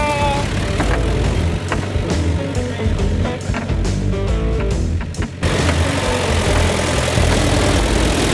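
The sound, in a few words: Daihatsu Scat 4x4 engine driving in second gear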